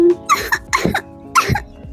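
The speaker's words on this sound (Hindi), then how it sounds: "मुझे तो इतनी खांसी हो रही है" Three sharp coughs in quick succession, close and fairly loud, with short pauses between them and no talking.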